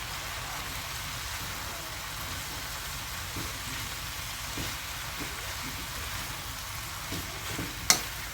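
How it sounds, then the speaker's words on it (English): Onions, peas and other vegetables fry in a pan for lo mein, giving a quiet, steady sizzle with occasional faint stirring scrapes and a brief sharp clink near the end. "See how the vegetables cook down?"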